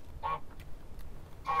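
Cartoonish goose honks from Untitled Goose Game, two short nasal blasts about a second apart, clear against a quiet backdrop.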